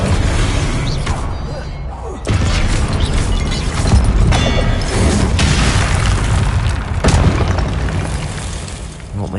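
A Confringo blasting curse explodes in the Hogwarts Legacy game, a dense, loud roaring boom with crackling bursts and mechanical rumble that fills the whole stretch without letup.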